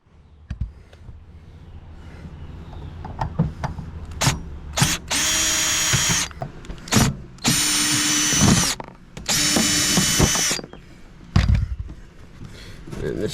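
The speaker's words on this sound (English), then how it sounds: "So I'm going to take this off. It's just 1, 2, 3 screws," A power drill whirs in three loud, sustained bursts as it backs screws out of an RV air conditioner panel, with clicks and handling knocks between them and someone talking nearby.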